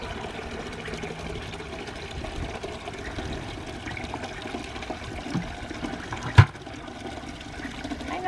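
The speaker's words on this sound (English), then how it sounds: "this water is brought to you by our gravity-fed water system that we have in the barn" Rainwater from a gravity-fed water system in a barn runs in a continuous rushing stream, steady and fairly close, with one sharp knock near the end.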